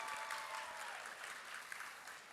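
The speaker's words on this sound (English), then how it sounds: "Give yourselves a round of applause" Applause from a student leadership event audience, a steady wash of clapping at moderate-to-faint level, continuous for a couple of seconds with no talking over it.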